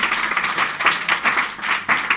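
A congregation at a church service in Calama claps in rhythmic, evenly spaced bursts, moderately loud and unaccompanied by speech.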